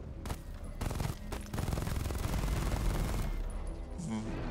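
Batmobile weapons fire in the video game Batman: Arkham Knight, a dense, continuous rattle of rapid gunfire with heavy booming impacts under it, loud throughout.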